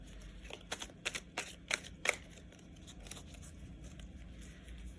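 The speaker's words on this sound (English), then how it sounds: "So we'll go ahead and shuffle as we normally do." A deck of cards is riffle-shuffled up close, a few quick crisp bursts of flicking paper, then quiet handling noise.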